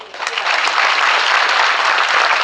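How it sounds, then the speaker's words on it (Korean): Warm applause from the members at an association's annual general meeting in Sangju welcomes the city's mayor, Song, to the stage: a steady, full wash of clapping from a sizeable crowd, loud and unbroken throughout. "뜨거운 박수로 송배경 상주시장님을 환영해 주시기"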